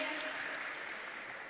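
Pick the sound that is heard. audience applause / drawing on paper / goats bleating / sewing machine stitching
audience applause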